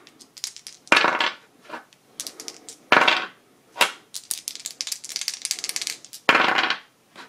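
Dice from the Culdcept Revolt special edition rattle and clink as they are handled, a string of sharp hard clicks and taps in bursts close to the microphone with short pauses.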